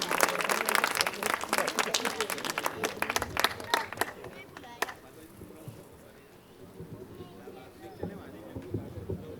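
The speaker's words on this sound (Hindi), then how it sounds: "तो बड़े सम्मान के साथ एक बार महोदया को आमंत्रित करते हैं, एक बार जोरदार तालियों से।" Loud clapping from an audience at a Hindi New Year kavi sammelan lasts for about four seconds and then fades, followed by quieter room noise with a voice speaking.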